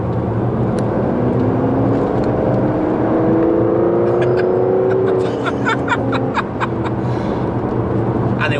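Aston Martin DBS Superleggera pulling in fifth gear on an open road, its engine note a steady rising drone under road and wind noise inside the cabin, with faint ticking and rattles near the end.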